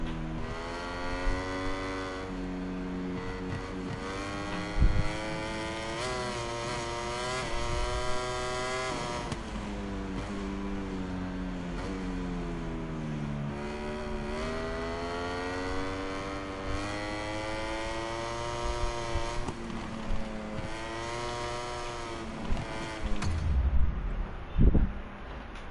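Ducati racing motorcycle engine in MotoGP 22, a Lenovo Ducati bike at race pace, loud and continuous with rising and falling revs as it shifts through gears, the engine note swooping up and down throughout with no talk.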